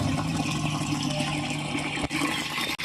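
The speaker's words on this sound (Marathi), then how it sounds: "पाणी भरावं लागले बघा." Water runs steadily into a poultry drinker container on a farm, a continuous splashing rush that breaks off briefly near the end.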